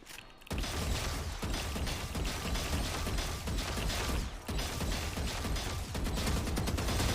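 Vandal rifle with a new cosmetic skin firing in the video game Valorant. Rapid mechanical shots and clattering come dense and loud after a brief quiet start, running almost continuously with a couple of short dips.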